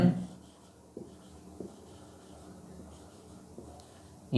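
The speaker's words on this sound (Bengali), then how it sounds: "তো চলো আমরা লিখি।" Marker or chalk strokes on a classroom board, a few short scratchy bursts spaced out over a quiet room, fairly close and soft, with no talking.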